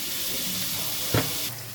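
Onion with a pinch of salt frying in oil in a pan for egg curry, giving a steady close sizzling hiss with a brief louder crackle near the end.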